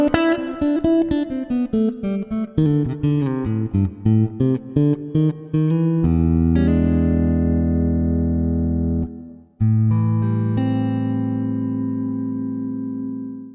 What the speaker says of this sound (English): let me try and demonstrate how beautiful piccolo sounds